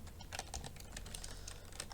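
Rapid keystrokes on a computer keyboard enter a Linux sudo apt install command in an Ubuntu 18.04 VirtualBox setup, a steady close clatter of irregular taps with no talking.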